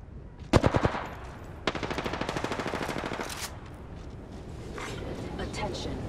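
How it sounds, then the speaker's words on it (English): Automatic weapon fire in the video game Apex Legends: a short rapid burst followed by a longer steady stream of rattling shots, loud and close, then a fainter stretch of game ambience. "They're shooting at me."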